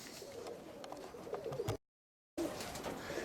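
Roller pigeons coo softly and continuously, interrupted by a brief total dropout before the cooing picks up again, with no voices present.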